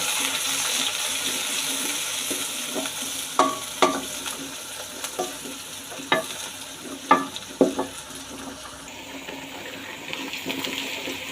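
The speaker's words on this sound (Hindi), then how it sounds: "अब हम इसमें डालेंगे 2 अदद ग्रीन वाले प्याज और इनको हल्का सा फ्राई कर लेंगे।" Green onions and curry leaves fry in hot oil for aloo methi sabzi, a steady soft sizzle broken by several clattering stirs of a spoon against the pan, with no talking.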